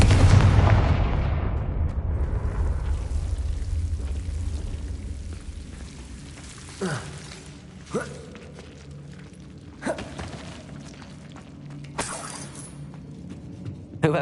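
A big Confringo spell blast opens with a loud roar that slowly decays in Hogwarts Legacy, followed by four or five sharper, smaller cracks spaced a couple of seconds apart.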